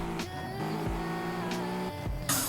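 A car drives in a GTA video game on a Ukrainian server, giving a steady engine drone with brief whooshes and a sharp burst of noise near the end, alone without talk.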